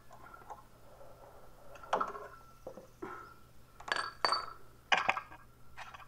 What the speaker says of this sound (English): I'm going to pull the axle out while I lift up the wheel